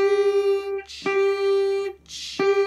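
Electric guitar plays a riff: single ringing notes, each starting with a short pick scrape, in a slow, uneven rhythm, played alone with no talking.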